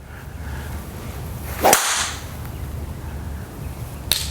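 A golf club swung as fast as possible during speed training, cutting the air in one sharp, close whoosh midway through, with a faint second swish near the end over quiet room noise.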